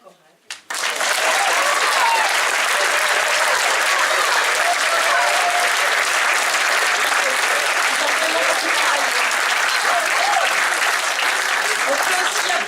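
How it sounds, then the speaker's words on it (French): An audience applauds a choir after a pop opera performance: after a brief quiet start, loud, dense clapping bursts in and sustains evenly to the end, with faint voices mixed in beneath. "Je pense qu'on peut applaudir très fort toute la chorale."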